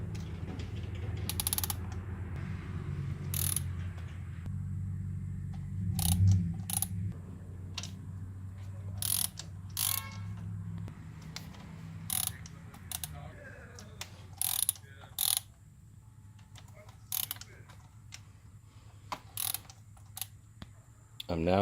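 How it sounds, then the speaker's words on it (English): Ratchet wrench breaking loose 10mm bolts while checking valves and timing belt slack, quick clicking pawl bursts repeated at intervals, close and fairly quiet, with low mechanical rumble early on. "we then need to break loose all the 10mm"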